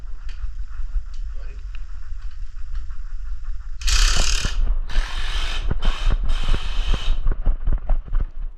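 Ratcheting clicks while a lock nut is tightened onto a Grasshopper mower wheel fitted with a no-flat tire, a near, loud burst of rapid metallic ticking in short runs, with brief talk in between.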